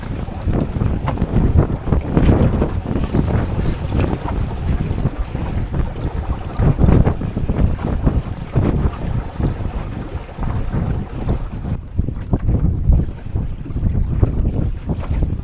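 Strong, steady wind rushes and buffets around a small sailboat racing a course, with water washing along the hull beneath it, loud and continuous throughout with no talking.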